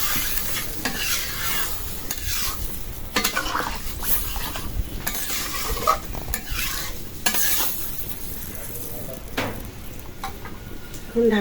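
Fish curry base being stir-fried with mustard paste and tomato, a loud steady sizzle with repeated clanks and scrapes of a utensil against the pan.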